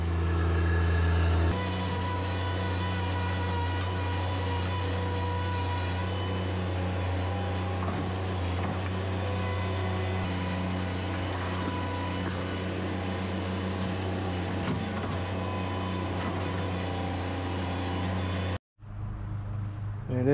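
A machine digging out very tough, dense grass and rocky ground during paver base preparation, heard as a loud, steady engine drone with shifting mechanical tones that runs throughout and stops abruptly near the end.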